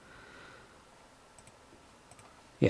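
A few quick, light clicks of a computer mouse, spaced apart in a quiet room, followed by a sudden louder burst at the end.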